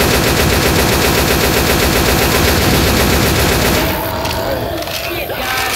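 Dense, continuous automatic gunfire from Left 4 Dead 2's Dark Carnival campaign, loud and sustained, with rapid overlapping shots that thin out near the end.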